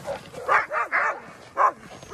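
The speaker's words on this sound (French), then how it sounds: "Petit chien." A small dog barks in a few sharp yaps, three quick ones close together and then one more after a short pause, fairly near and clear during a road trip in Lapland.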